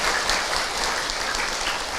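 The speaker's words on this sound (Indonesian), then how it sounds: "Tepuk tangan Ibu untuk Kak Hilman." A seated audience claps briefly for the speaker during an Islamic talk on marriage, a steady wash of moderate clapping heard at some distance.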